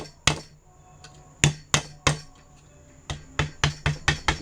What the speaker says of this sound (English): A little tappy tap.